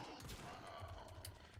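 Gunfire in Warframe comes as a quick flurry of faint, muffled shots and thuds over a short burst at low level.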